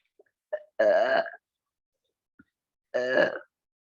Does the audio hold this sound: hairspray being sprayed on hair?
no